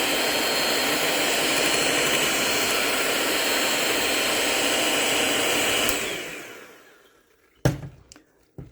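An electric hand mixer beats lumpy banana bread batter made from a 150-year-old Grange cookbook recipe, a loud steady whir lasting several seconds before winding down, then a few sharp knocks.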